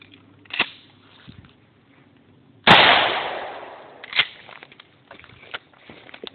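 A shotgun fires a custom-made shell loaded with a strip of five small nails, one loud sharp blast with a decaying tail, surrounded by faint handling noises and footsteps before and after.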